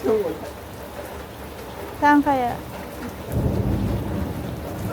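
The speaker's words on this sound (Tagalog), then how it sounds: "Oh my God, lumakas pa yung ulan." Heavy rain hisses steadily in the background while people talk nearby, and the downpour swells louder toward the end.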